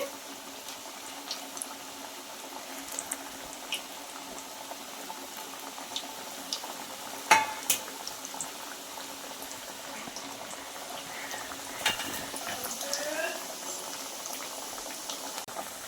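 Steady bubbling and fizzing of potato snacks deep-frying in hot oil on medium heat, a dense continuous sizzle with scattered small pops and one or two louder crackles, close and moderately quiet.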